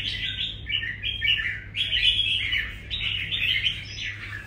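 Caged red-whiskered bulbul singing loudly and close, a run of bright, rapid warbled phrases repeated in bursts over a low steady hum, with no talk.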